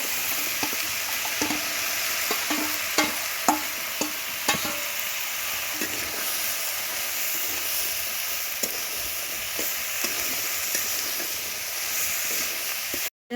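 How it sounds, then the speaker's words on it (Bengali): Tomato, eggplant and Malabar spinach seeds sizzle in a pan while a spatula stirs them, giving a constant frying hiss broken by repeated close scraping and tapping strokes, ending in a short silence. "টমেটো আর বেগুনটাকে দিয়ে ভালো করে আমি নাড়াচাড়া করে তারপরে পুঁই ফলটা দিয়ে দেবো"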